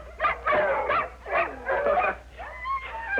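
Watchdogs in a kennel bark and whimper in a run of excited, overlapping yelps and barks, close and loud, with no talk over them.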